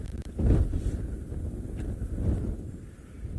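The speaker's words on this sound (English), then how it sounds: "I can't hear anything with the wind." Gusting wind buffets the microphone on an open safari vehicle at sunset during a cold front, producing a loud, continuous low rumble that swells and eases with no talk over it.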